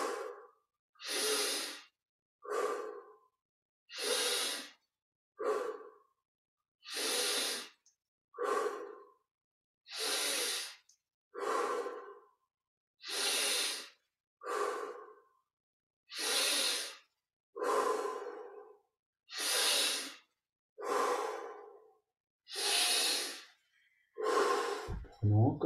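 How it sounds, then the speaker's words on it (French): Deep, slow breathing repeated about a dozen times, each breath drawn in through the nose and let out through the mouth in a steady rhythm, close and clear with no talking over it. "On respire profondément. Inspire par le nez,"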